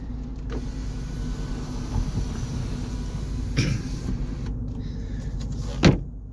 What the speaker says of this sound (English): So we got the big sunroof open right now. I'm going to close that.